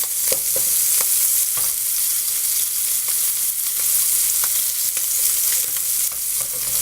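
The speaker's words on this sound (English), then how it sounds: "You really want a nice brown sear on the bottom of your scallop." Large scallops searing in an oiled pan give a loud, steady hiss and sizzle, broken by occasional sharp pops and taps, close and heard alone.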